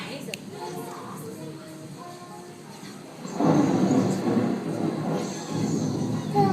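A thunderstorm sound effect plays during a children's Little Mermaid show, a low rolling rumble with rain-like hiss swelling loudly partway through.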